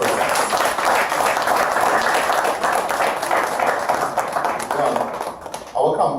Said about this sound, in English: just give a round of applause to Mr. Jessup and his staff